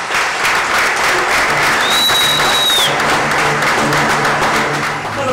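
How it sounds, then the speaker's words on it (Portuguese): Loud, steady applause from a studio audience welcoming a guest onto a Brazilian talk show, dense clapping that holds for several seconds with a brief high whistle partway through. "quero que vocês recebam com forte aplausos e Imhotep"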